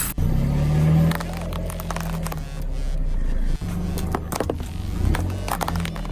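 Car wheels roll over boxes one after another. Crackling crunches and sharp snaps sit over a steady low engine hum, up close.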